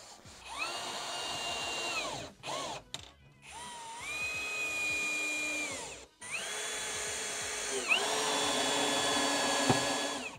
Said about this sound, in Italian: poi posso andare a mettergli le viti